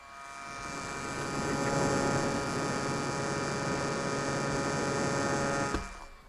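A TrimUI Smart Pro S handheld's cooling fan at full speed gives a close, steady electric whine with a tonal hum that swells in, holds, then cuts off abruptly.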